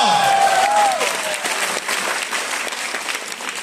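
Audience applause at a Malayalam motivational seminar in Chalakudy, Thrissur: a dense crowd clapping steadily for several seconds, loud and close, with a brief whistle-like tone at the start and no talking over it.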